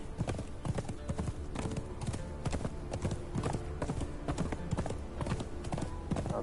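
Horse hooves gallop in a steady, rapid clip-clop rhythm through Conan Exiles on the Isle of Siptah, loud and continuous for the whole stretch, with a brief whinny-like tone mixed in.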